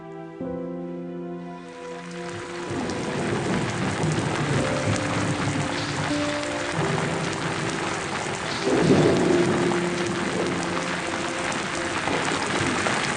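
Steady, heavy rain falls with low thunder rumbling through it, after a few seconds of soft music fade at the start.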